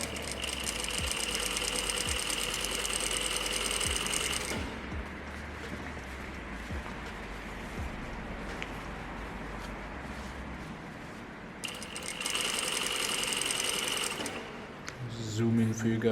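A sewing machine stitches up the vent of a button-up shirt, humming in a fast steady buzz that pauses midway and then resumes, fairly faint against a quiet room.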